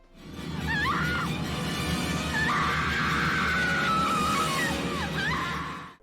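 Continuous loud screaming fills a film scene in which a pack of wolves bursts through the windows into a bedroom, with several rising and falling shrieks layered over a dense, roaring background.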